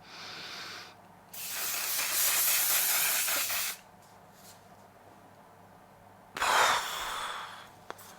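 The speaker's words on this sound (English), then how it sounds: "We're going to use the setting spray one more time." Three bursts of makeup setting spray hiss from an aerosol, a short one, a long steady one, then another sustained spray, with quiet pauses between.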